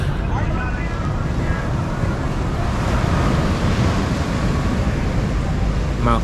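Waves washing onto the beach at Sosua with gusting wind buffeting the microphone, a dense, steady roar that stays loud throughout.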